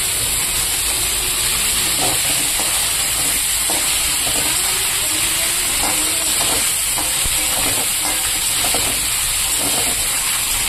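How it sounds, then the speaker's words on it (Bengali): Potato and cauliflower pieces frying in hot oil in a home kitchen, a continuous loud sizzle and hiss with faint stirring clinks, no voices. "এবার আলু ফুলকপিটা আমি ভেজে দেব।"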